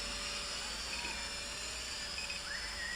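An SJRC S20W GPS quadcopter drone flies nearby with a constant high-pitched rotor whine and a slightly shifting pitch, with no talk.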